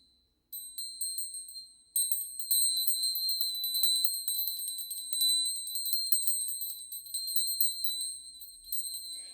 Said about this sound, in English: And bells feel really nice to end it even.